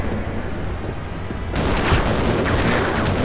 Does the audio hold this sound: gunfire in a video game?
yes